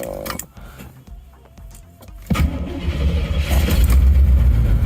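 1987 Corvette engine with a bad misfire, quiet at first and then a loud, close, rough low running drone that holds steady.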